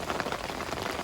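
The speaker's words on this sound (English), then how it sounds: "That rain has hit off again." Rain pattering steadily onto a river, a dense, even hiss of drops, close and continuous throughout the short stretch.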